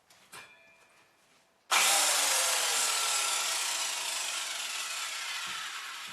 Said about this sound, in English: Power tools are more expensive than their manual counterparts, but I find them much more efficient.